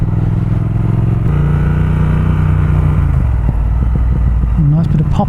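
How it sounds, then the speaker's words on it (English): A Triumph Speed Twin motorcycle's engine rumbles loudly while riding, then drops off throttle with a scatter of crackling exhaust pops toward the end, heard up close with wind noise. "Nice bit of popping on the exhaust."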